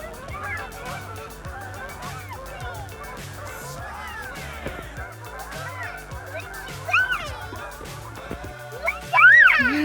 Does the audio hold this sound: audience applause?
no